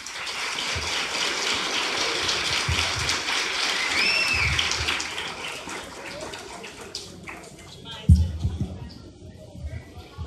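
An audience at an evening swimming-themed talk welcomes the speakers with dense, rushing applause that holds steady and then thins out, leaving a few scattered claps and murmurs.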